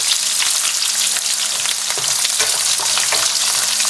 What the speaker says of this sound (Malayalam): ഇനി ഇതിലേക്ക് നമ്മൾ നേരത്തെ അരിഞ്ഞു വെച്ച വെളുത്തുള്ളി ഇട്ട് വഴറ്റുക.